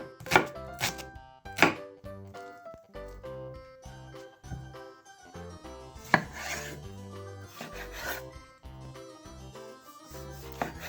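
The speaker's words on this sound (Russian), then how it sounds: "Половинку красного лука нарезаем мелкими кубиками." Half a red onion being finely diced with a knife for a beet salad: quick, repeated close knife taps on a board in bursts, some sharp and loud, with music in the background.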